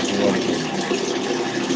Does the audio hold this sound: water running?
yes